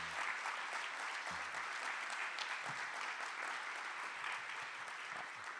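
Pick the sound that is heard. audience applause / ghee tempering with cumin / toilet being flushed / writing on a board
audience applause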